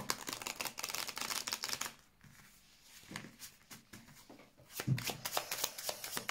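Tarot cards shuffled for a reading, a dense run of quick riffling flicks that pauses briefly in the middle before resuming, close and fairly loud with no talking.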